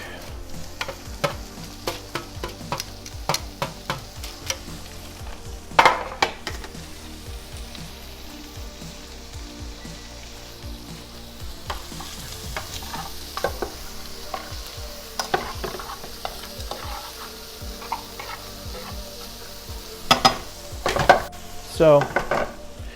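Minced garlic, about two tablespoons, sizzles steadily in a hot pan during a creamy chicken pasta dish, with repeated scraping and clinking stirs from a utensil and occasional louder knocks against the pan.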